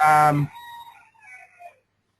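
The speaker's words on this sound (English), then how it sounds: "We pretty much have roosters." Roosters crow in the background, a drawn-out wavering call fading off at a distance after a voice speaks briefly at the start.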